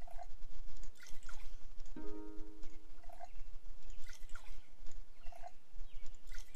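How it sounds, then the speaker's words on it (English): Water fills a container in the survival game NEO Scavenger, heard as a short burst of rising gurgling tones among repeated soft drips and clicks over a steady low hum. "We're gonna fill this all up with water, purify it"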